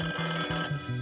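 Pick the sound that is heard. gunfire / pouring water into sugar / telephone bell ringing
telephone bell ringing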